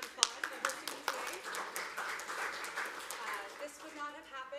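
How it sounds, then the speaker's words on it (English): An audience claps to thank the Wagner Society of New York at an annual recital. The applause is soft and distant, with scattered sharper claps forming a steady patter that thins out toward the end. "I'd like to give them a round of applause for hosting me today."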